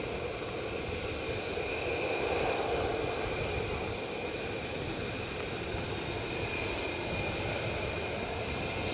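A military jet at RAF Lakenheath rumbles and roars at a distance, a continuous broad engine noise swelling slightly in the middle, with no one speaking.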